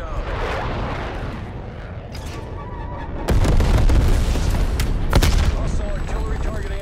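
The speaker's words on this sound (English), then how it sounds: "Hostile artillery targeting active. Artillery inbound." Artillery strike in Black Ops Cold War on PS5, heavy booming explosions landing near the player, a big blast at about three seconds and another soon after, over a rumbling bed of game noise.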